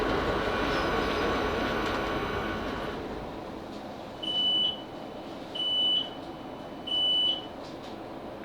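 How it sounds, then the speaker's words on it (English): On board a South Western Railway Class 458 electric train heading into Syon Lane, a steady rolling rumble fades as it slows, then three evenly spaced electronic beeps sound, like door-warning tones. "This train is now approaching Syon Lane."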